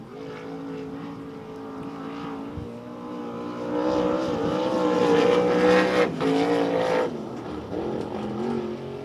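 A race car at Devil's Bowl Speedway, driven by a 14-year-old rookie, roars through a lap, its engine droning and rising to a loud nearby pass before fading, with no voices.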